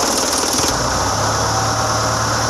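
An Isuzu ELF NKR 71 truck's diesel engine idles after a turbo cartridge installation, a loud, close, steady rumbling drone with a slight change in tone early on and no talk.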